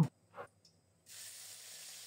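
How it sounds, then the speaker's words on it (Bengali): Small shrimp coated in salt and turmeric hit hot oil with a sudden steady sizzle that carries on evenly after a few faint kitchen clinks. "এখন ভেজে নিচ্ছি ছোট চিংড়ি"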